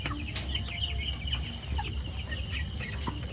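Tiger chickens on a poultry farm cluck steadily and close by, with soft scattered calls over a constant low barnyard rumble and no talking.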